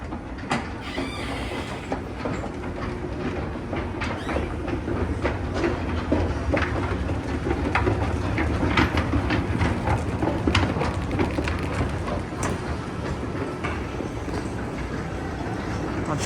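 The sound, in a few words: historic Otis wooden escalators running at Macy's Herald Square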